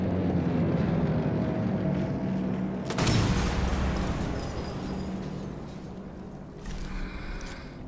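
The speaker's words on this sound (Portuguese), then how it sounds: "Vocês percebem que tá passando avião, né?" A propeller airplane passes overhead in the World War II shooter game Sniper Elite 4, a low rumbling drone that swells suddenly and loudly, then slowly fades, with no talking.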